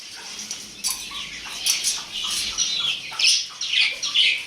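Pet koel birds squawk in rough, harsh bursts as they are let loose, with a fluttering of wings between the calls, close by and fairly steady over a few seconds.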